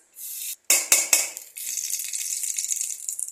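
Ghee hitting a hot kadai, with a few sharp crackling bursts followed by a steady, close frying sizzle that keeps hissing on its own.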